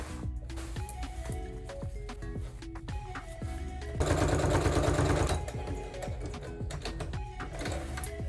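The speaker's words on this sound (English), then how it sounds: "Now I'm going to go ahead and start stitching this." A sewing machine runs steadily, stitching a seam along folded shirt fabric, its rapid needle rhythm breaking into short bursts, with a louder, denser run of stitching in the middle and no talk.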